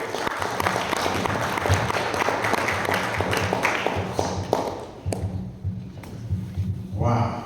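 Audience applause at a business forum on India–Africa relations, a dense wash of clapping filling most of the stretch, thinning out near the end, with voices mixed in.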